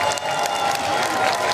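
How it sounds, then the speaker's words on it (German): An audience at a Mario Kart 8 show event at gamescom 2022 applauds, with dense, steady clapping and some crowd noise. The sound is loud and fills the whole clip. "Einen riesengroßen Applaus."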